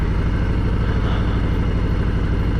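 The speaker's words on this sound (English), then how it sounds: "when I got off my motorcycle, I didn't turn it off" A motorcycle engine idles steadily with a low, even rumble and regular pulsing throb, continuous and close, with no voices.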